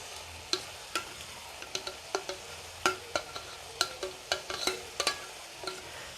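A spoon stirs mashed brinjal into a frying curry with a steady run of sharp scraping knocks against the pan, each stroke distinct and close over a faint sizzle, with no one speaking.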